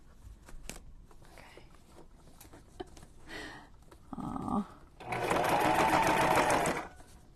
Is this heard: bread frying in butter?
no